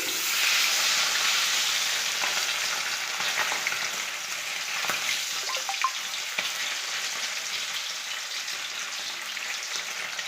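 Katla fish crackles and sizzles in hot oil as it fries toward red, a steady close hiss with brief louder pops midway and no speech.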